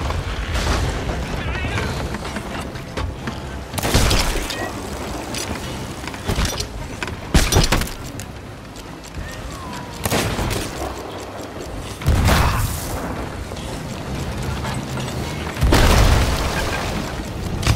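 Cannonballs slam into a target in a boat battle video game, a series of heavy booming impacts every couple of seconds over a continuous rumbling background, loud and near, with a player talking throughout.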